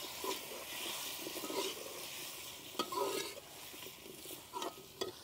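Cut potatoes fry with spice masala in a pan, making a continuous bright sizzle with scattered sharp utensil scrapes and taps at close range, and no voices.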